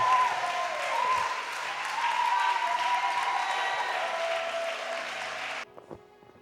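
A church congregation at a special testimony service applauds and cheers in sustained, dense clapping that fills the room, then cuts off abruptly near the end, leaving a quieter hall.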